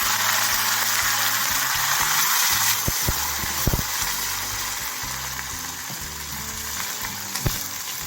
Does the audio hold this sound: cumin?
yes